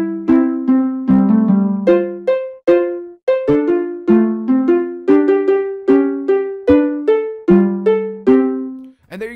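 A Minecraft note block doorbell plays an Easter tune, a bright chiming melody of plucked, bell-like notes in a steady rhythm, loud and alone until it ends.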